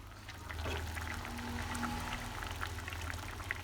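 Sago pearls simmering in a pot of water, soft bubbling and popping blips scattered over a low steady hum from the stove, fairly quiet and close.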